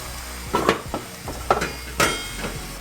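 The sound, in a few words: mixing sauce into pasta salad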